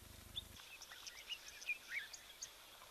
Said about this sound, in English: This is a familiar sound, one we hear always at Tembe, but it's the dark-capped bulbul that we're looking at the moment.